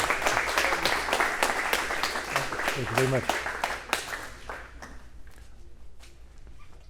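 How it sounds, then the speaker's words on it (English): An audience at a live speaking event in Tampa, Florida claps to welcome a speaker, and the applause thins out and fades over a few seconds while a man thanks the crowd. "Everybody please give a warm round of applause for Mr."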